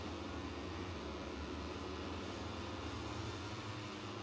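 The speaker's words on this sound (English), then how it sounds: "You can hear some engines being fired up in pit lane" MotoGP race bikes fire up in the pit lane at Sepang, a steady, dense engine roar that stays constant throughout, somewhat distant and without any talking.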